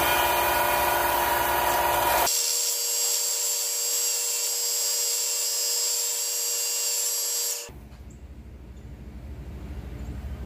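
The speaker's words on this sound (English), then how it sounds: "Now let's take it to the sander." A belt sander works fret marker plugs for a cigar box guitar, a loud steady mechanical whir with a hard abrasive hiss early on, then running smoothly before it spins down and fades near the end.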